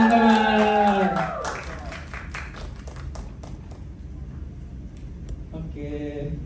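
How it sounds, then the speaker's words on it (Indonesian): An audience applauds steadily at a public speaking event after a host's introduction. The dense clapping runs under and after a voice speaking at the start and end. "Boleh tepuk tangan teman-teman."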